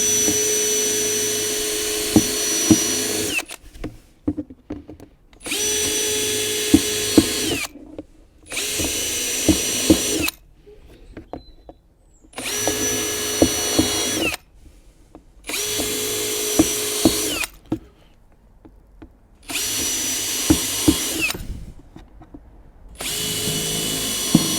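A power drill fitted with a step drill bit bores a series of holes in greenhouse preparation work. It whines loudly in about five long bursts, each a few seconds, separated by short quiet pauses. No one speaks.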